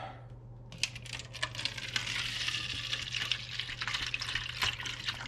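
Heavy-duty rust remover liquid is poured from a jug into a container. The splashing, gurgling pour runs steadily and close by for several seconds under a low constant hum.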